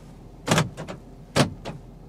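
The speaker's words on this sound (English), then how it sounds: "I love the sound that these trucks make when you lock the doors." Power door locks on an old GM SUV clunk twice in quick succession, each a sharp mechanical thunk followed by a softer click, close and fairly loud in a quiet setting.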